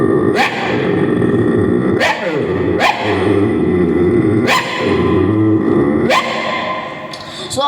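A voice mimicking a dog barking at a passerby on the road, five loud gruff barks spaced about a second or more apart, close and alone with no talking.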